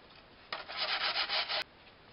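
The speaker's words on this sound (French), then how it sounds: "on va commencer par prendre notre support, notre palette, et on va venir poncer" A wooden pallet is hand-sanded in one short, faint burst of rhythmic scrubbing strokes lasting about a second, with silence before and after.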